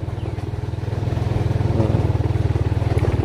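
Motorcycle engine running steadily while being ridden in a forest area, a loud, close, even putter that builds slightly in level, with a voice speaking briefly over it.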